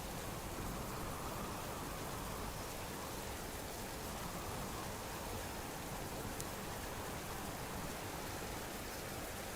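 Rain falls steadily in the game Subsistence, a constant, even hiss of fairly quiet downpour with no talk over it.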